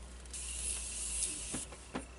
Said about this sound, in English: It's like a setting spray from Morphe.